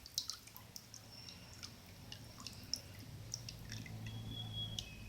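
Water dripping and trickling inside a cut glass bottle, with faint scattered drips and small liquid ticks over a low background hum.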